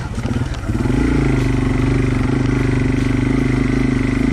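A Yamaha TW200 dual-sport motorcycle rides over rocks on a trail, its engine loud and close. The steady, thumping exhaust note rises after a brief start with some clatter, then carries on at a constant level.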